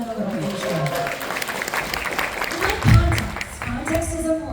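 An audience at VidCon claps and cheers for Anthro, a dense, steady wash of applause. Amplified speech runs over the top.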